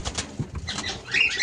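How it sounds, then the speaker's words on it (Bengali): Cockatiels flap their wings in a large flight cage, a series of quick close fluttering beats, followed by shrill chirps at the end. "পাখিগুলো দেখছেন কত সুন্দর উঠছে, এবং এদের ওড়ার জন্যই এত বড় করে একটু খাঁচা বানানো"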